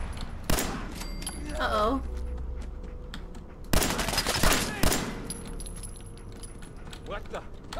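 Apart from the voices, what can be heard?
gunfire from a gun in the Fallout 4 video game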